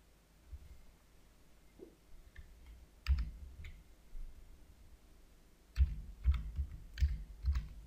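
Computer mouse clicking the Next button, a few soft, close, dry clicks spaced out, then a quicker cluster of clicks, in an otherwise quiet room.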